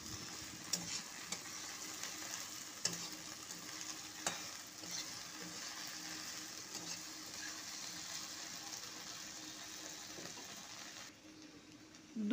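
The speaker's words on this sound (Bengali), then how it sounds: "ঢ্যাঁড়সের সঙ্গেই ভাজতে থাকবো।" Okra frying with a handful of cashews and raisins, stirred steadily in the pan, with a quiet continuous sizzle broken by occasional scrapes and taps of the spatula, close and soft, with no talking.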